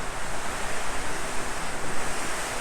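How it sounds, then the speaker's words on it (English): Strong wind blows outside in a continuous broadband roar that surges and eases in gusts, loud and unbroken, with no voices. "that wind is wild out there"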